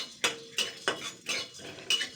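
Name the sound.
dry roasting chili and cumin in a kadai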